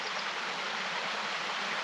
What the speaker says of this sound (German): Leute, hört ihr das Bächlein rauschen?